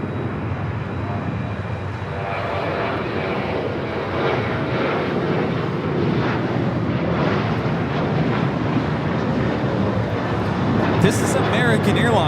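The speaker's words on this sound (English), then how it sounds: "American Airlines 1437 taking off to Indianapolis on the 737-800" American Airlines Boeing 737-800 taking off at LAX for Indianapolis, heavy sustained jet roar with a gritty low rumble that builds slightly and stays loud throughout.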